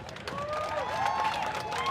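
Crowd applause at a live jiu-jitsu fight night in Key West, a short burst of clapping and cheering under a loud announcer's voice over the PA.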